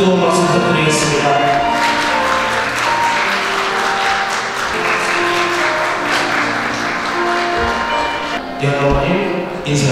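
Wedding ceremony applause, a steady wash of many hands clapping throughout, with background music and an announcer's voice over the hall sound system.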